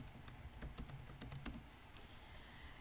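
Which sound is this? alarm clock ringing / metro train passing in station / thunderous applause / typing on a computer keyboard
typing on a computer keyboard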